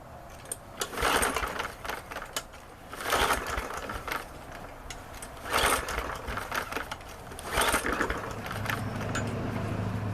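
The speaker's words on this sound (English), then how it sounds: "Now we're going to fire this up, see if we can run that carburetor out of gas" An MTD lawnmower engine cold-starts, then runs roughly, surging loudly about every two seconds between quieter stretches. The machine is close by.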